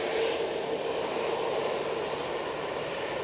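A Finnair airliner at Manchester Airport gives off a steady, moderately distant jet engine rumble and whine that holds level throughout without interruption.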